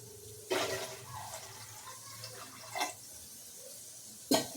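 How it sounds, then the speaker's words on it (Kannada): Water poured from a vessel into a cooking pan of rice for a Sankranti festival meal, coming in a few short splashy bursts over quiet kitchen background, with no voices. "ಇನ್ನೊಂದು ಸ್ವಲ್ಪ ನೀರು"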